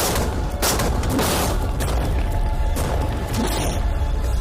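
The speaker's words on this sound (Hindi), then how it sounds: "टैंक्स की रैपिड फायर से मजा आ रहा है" Tanks firing rapid cannon fire in a dense, continuous roar of booms and blasts, with several heavier impacts standing out from a constant wall of noise.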